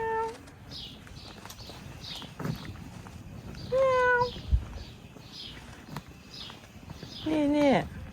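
A cat meows several times outdoors in a quiet village, the calls rising and falling at close range, with a louder, drawn-out meow near the end, faint birdsong and a brief thump in between, and a person speaking softly.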